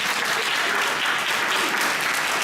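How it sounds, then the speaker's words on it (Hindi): A standing church congregation at a Christmas celebration claps loudly and continuously, a dense, even wall of applause from many hands close by. "हम खुदावंद की तरफ, आसमान की तरफ देखकर जोरदार ताली बजाएंगे"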